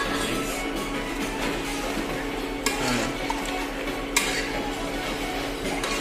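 Chicken biryani ingredients are stirred in a metal pot, with a spoon scraping and clanking against the sides in a steady rhythm, two sharper knocks standing out, and a faint sizzle underneath.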